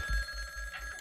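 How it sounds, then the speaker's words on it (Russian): A tuxedo rings like a telephone in the video game Jazzpunk, a steady ringing tone that carries through the whole second at moderate level with a low hum underneath. "У нас зазвонил смокинг."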